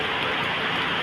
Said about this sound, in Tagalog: lumalakas na naman yung ulan imbes na tumigil na